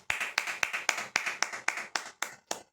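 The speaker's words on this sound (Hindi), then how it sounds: "तो सभी इनका वेलकम करेंगे ताली बजाकर" Audience clapping to welcome a guest speaker at a spiritual talk session, a sparse run of about ten separate claps at a steady, slightly uneven rhythm, fairly close and moderately loud, with no talking.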